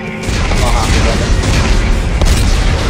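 Explosives detonating in the video game Dead Space 3 make a loud, dense roar of rumbling blasts that fills the whole stretch with little letup.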